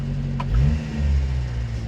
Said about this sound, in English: Small little rev there. Engine is responsive.